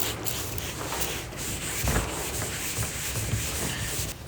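Wet fibreglass surface being scrubbed with paint stripper, a steady, soft rubbing and scouring sound that carries on without pause, close up and fairly quiet, with no talk.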